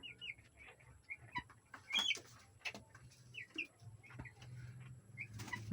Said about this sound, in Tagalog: 10 araw na po yung ating mga manok.